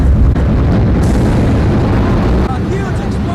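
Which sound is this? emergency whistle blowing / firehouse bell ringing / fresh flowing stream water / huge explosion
huge explosion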